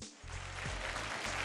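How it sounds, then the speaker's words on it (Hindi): Studio audience applause greets a guest on a cooking show, a steady, dense wash of clapping that starts within the first moment and carries on at an even level to the end. "जोरदार तालियों से स्वागत कीजिए"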